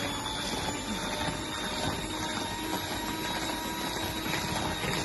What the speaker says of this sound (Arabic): ضربنا كده السكر مع الزبده، هننزل ببيضه واحده نضربها